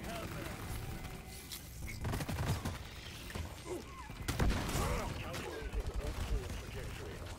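A rocket barrage weapon fires in Deep Rock Galactic, a ragged run of sharp blasts and rumbling explosions of varied loudness scattered across the clip, with game noise underneath.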